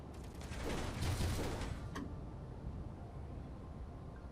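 A Gatling turret in Space Engineers fires a rattling, dense burst that swells for about a second and a half, then stops with a sharp click, leaving low mechanical rumble behind.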